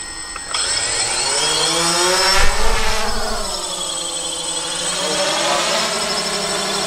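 Drone motors spin up for a test flight, close and loud, their high whine rising and bending in pitch before settling into a steady buzzing hum.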